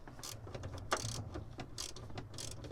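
Ratcheting clicks from a wrench loosening bolts on a Honda Element door checker, a quick series of close, mechanical ticks and rattles with no talking.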